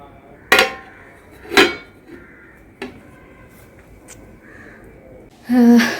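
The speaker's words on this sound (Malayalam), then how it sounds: "ഞാൻ ഈ പ്ലേറ്റ് ഇങ്ങനെ വെക്കാൻ പോവാണ്" A plate is set down during cake making, giving a few hard clinks and knocks on a surface spaced over several seconds, then a brief louder clatter at the end.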